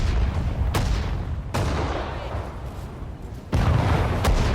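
Howitzer artillery fire in the World War II strategy game Sudden Strike 4: three heavy booming shots at uneven intervals over a constant low battlefield rumble.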